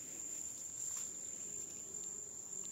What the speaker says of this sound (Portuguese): vamos dar uma olhadinha no enxame aí para ver como é que tá